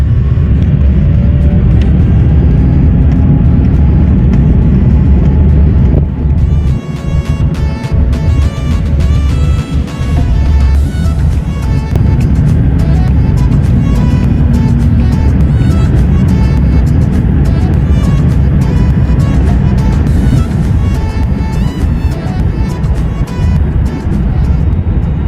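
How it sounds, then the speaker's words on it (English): British Airways A350-1000 cabin at night while taxiing to the runway at Phoenix, a loud continuous engine rumble and whine with faint rattles throughout, heard from inside with no one talking. "the taxi to the runway was going to be very short"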